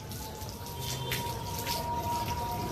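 Water running and dripping as a dog named Angel is wetted down for a shampoo bath, a steady close trickle and splash with no talking.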